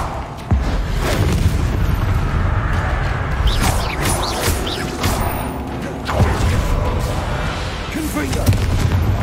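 Repeated fiery blasts from the Confringo spell in Hogwarts Legacy, a series of loud booming bursts about every second or two over a continuous dense rumble of game noise.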